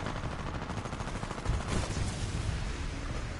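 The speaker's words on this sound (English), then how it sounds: "who the fuck is shooting at me?" Dense, continuous gunfire in the Titanfall 2 video game, a steady rattle of rapid shots with a slightly heavier burst midway, no voices.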